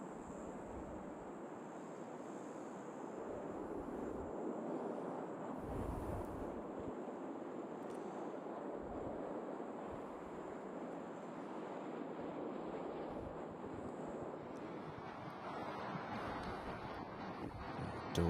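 Steady wind rushes across a golf course, a continuous broadband roar buffeting the microphone at low level with no voices.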